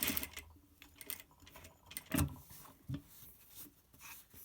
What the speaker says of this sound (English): we're going to stitch our 5mm line there on a lovely V, just so it doesn't wobble about the place